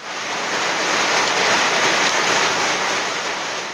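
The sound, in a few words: rain with gusty wind during hailstorm in Bangladesh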